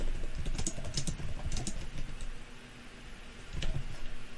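Light clicking of typing on a computer keyboard, small irregular bursts of keystrokes with short pauses, close but quiet against a soft room background.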